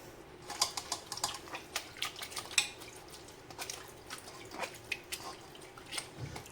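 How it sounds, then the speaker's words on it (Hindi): Water poured over leftover soup pulp trickles through a strainer in soft, irregular drips and splashes, close and quiet over a faint steady background. "अब इस बचे हुए वेस्ट में भी हम थोड़ा सा पानी डालेंगे और इसको एक बार फिर से छान लेंगे।"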